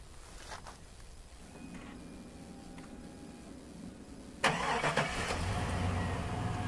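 A pickup truck's engine starts by remote start: a quiet idle-like hum, then a sudden loud crank and catch into a steady, close rumbling idle.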